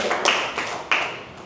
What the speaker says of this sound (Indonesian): Oke, tepuk tangan buat Zaki